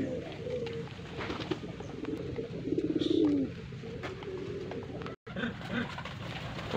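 Pigeons in a loft coo with a short throaty rolling call at close range amid background chatter and light ambient noise, with people talking nearby.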